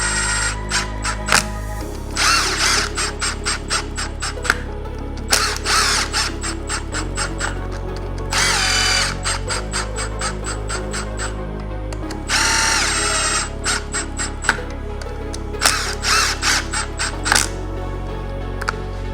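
A cordless power tool snugs up the clutch cover bolts on a Yamaha YFZ450R quad, loud whirring bursts repeated bolt after bolt with short clicking gaps between them.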